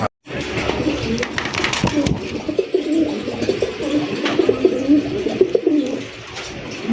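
Pigeons cooing in a cage, repeated low throaty coos close by over a busy background with scattered knocks and faint voices.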